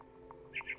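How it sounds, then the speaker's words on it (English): In the game What Remains of Edith Finch, a couple of brief, bright bird chirps sound outside a window, faint and set against a soft steady background hum. "Then I heard chirping outside my window."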